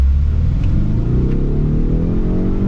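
A 2024 Ford Mustang engine revs loudly and continuously while drifting, a deep rumbling exhaust rising steadily in pitch as it accelerates, close and dominant with no talk.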